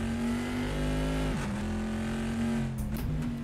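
A loud modded Corvette GT2 engine from Assetto Corsa at Laguna Seca drones steadily, dips sharply on a quick shift, revs back up, then lifts off again near the end, with no voices over it.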